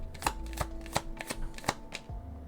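Tarot cards shuffled by hand nearby: a quick run of crisp riffling slaps, about six even strokes in under three seconds, with no talking.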